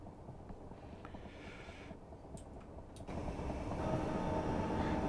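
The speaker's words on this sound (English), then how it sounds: "at least we've got some audio from the train making some noise" A simulated train in Train Sim World 2022 runs on the Chatham Main Line from London Victoria toward Dover, giving a steady, quiet low rumble with faint clatter that swells slightly louder partway through.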